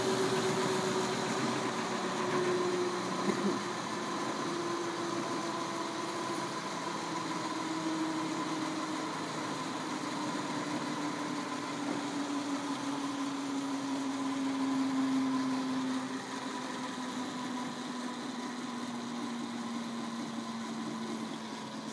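Electric motor running steadily on a dynamometer while generating electricity, a continuous droning whine with a slowly falling pitch, loud and close, no voices.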